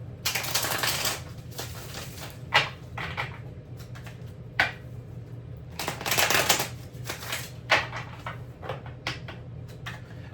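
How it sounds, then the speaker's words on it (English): A deck of tarot cards being shuffled up close, with bursts of riffling and flicking cards in irregular rhythm, broken by short pauses and taps, against a faint low hum and no talk. "I've been shuffling this deck"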